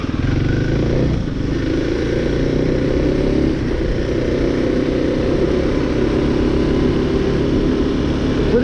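A Kawasaki KLX300 motorcycle engine runs steadily while being ridden, a loud, continuous low drone with slight shifts in pitch and a brief dip near the start, with no talking.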